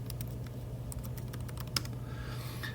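Someone types on a Chromebook keyboard in a quick, irregular patter of light key clicks, with one louder tap near the middle. The clicks sit close over a steady low background hum.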